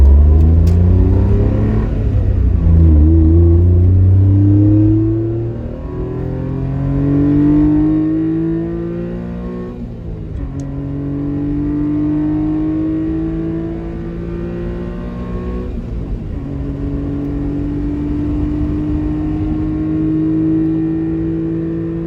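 A Honda Beat kei car engine revs up to about 7,000 RPM through several gear pulls, each climbing whine rising then dropping at the shift, loud and close, with a deep rumble underneath.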